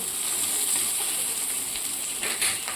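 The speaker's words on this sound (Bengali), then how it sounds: "আগে থেকে কেটে রাখা পেঁয়াজ কুচনো দিয়ে দিয়েছি এর মধ্যে আমি লঙ্কা অ্যাড করলাম" Chopped onion and chilli fry in a pan, giving a soft, steady sizzle with faint stirring, fairly quiet and uninterrupted.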